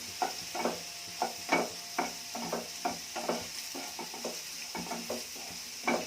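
A spoon stirs coriander powder into bitter gourd curry frying in a pan, making a quiet, steady sizzle broken by repeated close scraping strokes at an irregular rhythm.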